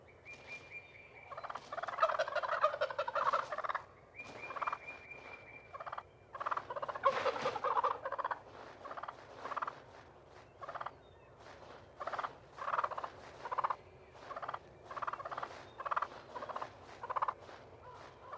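Wild turkeys gobble repeatedly in loud, rattling bursts, with several birds calling in overlapping rapid series that keep going from start to finish.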